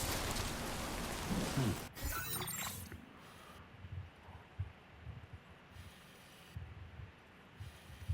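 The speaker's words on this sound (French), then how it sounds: "Il pleut." Rain falls in the video game Death Stranding 2 as a steady broadband hiss, with a sharp burst near the start and scattered soft thuds, no one talking.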